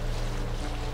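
Boat crossing a lake in The Witcher 3 video game, a steady close wash of water and wind noise without pause.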